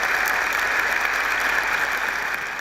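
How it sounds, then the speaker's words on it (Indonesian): Sustained applause from a campus audience at a talk show taping, loud dense clapping that holds steady for the whole stretch before easing slightly at the end. "kita berikan aplaus untuk Wilny"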